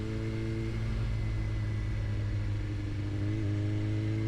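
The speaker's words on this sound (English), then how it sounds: "I'm gonna downshift all the way, and I'm gonna take it to these guys" A car engine drones loud and steady, and its pitch climbs near the end as the driver downshifts into a corner. Constant rumble fills the background.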